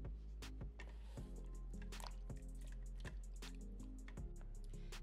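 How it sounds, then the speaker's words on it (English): Potato pieces dropped one by one into a pot of cold water before parboiling, giving a series of soft splashes and plops at an irregular rhythm, close and quiet, with no one talking. "Add your potatoes to it."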